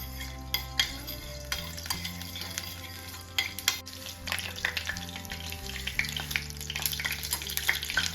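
Whole spices, cinnamon and cloves, sizzle in hot oil for a meal maker masala curry, a steady fry broken by sharp clinks and scrapes of a utensil against the pan.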